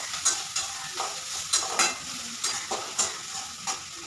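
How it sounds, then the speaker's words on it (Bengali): Onions sizzle steadily while frying in a pan for an egg and potato curry, with a spatula scraping and stirring in repeated, evenly spaced strokes close by, and no voices. "পেঁয়াজটা ভাজা ভাজা করে নেবো"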